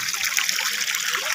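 Hot spring water from Bulusan Lake, near Bulusan Volcano, flows steadily in a continuous bright trickling wash, close and fairly loud with no pauses.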